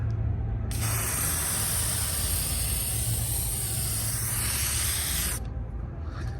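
A Duragloss tire gloss aerosol can sprays in one continuous loud hiss lasting several seconds outdoors on a windy day, with wind rumble underneath before and after.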